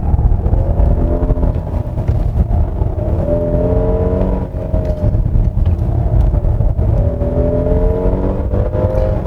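A 2023 Hyundai Palisade 3.8 front-wheel-drive SUV accelerates hard through a bend on a winding mountain road, its engine droning steadily and loudly with rising, stepping tones as the automatic transmission works, heard from inside the cabin.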